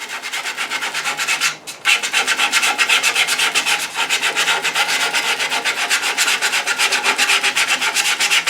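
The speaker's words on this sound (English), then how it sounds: "You can also do some sanding by hand." Steady hand sanding of dyed figured wood using a small holder fitted with 2-inch abrasive discs, a close, continuous rhythmic scratchy rubbing with quick back-and-forth strokes and one brief pause near the start.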